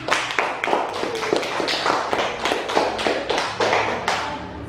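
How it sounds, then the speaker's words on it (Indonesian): Classroom of children clapping their hands together, a rapid, slightly uneven patter of many claps running steadily for several seconds, close and moderately loud. "Tepuk tangan untuk kita semua."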